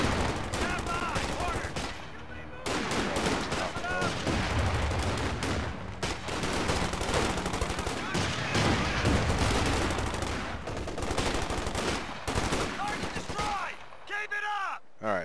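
Dense, continuous machine gun fire and explosions from the video game Company of Heroes 2, loud and layered, with someone talking briefly over the battle noise.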